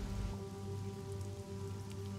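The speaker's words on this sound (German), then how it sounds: "Der Regen ist wohl etwas zurückgegangen" Steady rain falls on a surface, a soft, continuous patter over a low hum with no voices.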